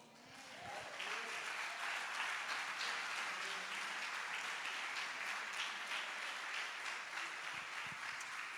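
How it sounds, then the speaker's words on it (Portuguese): A church congregation applauds during a sermon by Apostle Francisco Nicolau, a dense, steady wash of many hands clapping that swells quickly and holds at an even level for several seconds, with no one speaking over it. "Pode aplaudir o Senhor?"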